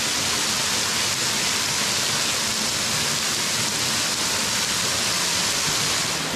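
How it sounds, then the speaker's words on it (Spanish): A waterfall on the Ruta de los Molinos near Ares del Maestrat gives a steady, dense roar of falling and splashing water, loud and close, that keeps going without a break and with no voices. "Están cayendo gotas"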